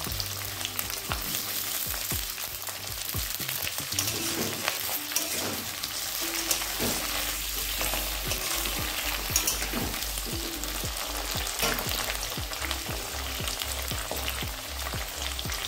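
Capsicum and tomato sizzle steadily in a hot pan for egg cooked without water, a continuous close frying hiss broken by occasional stirring scrapes.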